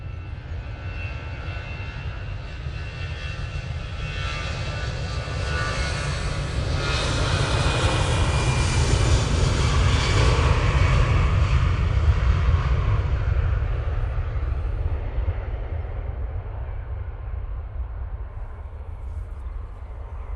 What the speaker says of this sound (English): It's an A320-200 going off to Paris Charles de Gaulle this morning.